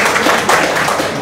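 Applause at a community fellowship lunch in Maria de la Salut, a dense, continuous wash of many hands clapping close by, steady and loud throughout the short stretch.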